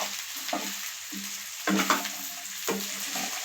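Chicken pieces frying and being stirred in a pan with chili powder: a steady low sizzle with recurring scraping stirs, the loudest around the middle and near the end, no voices.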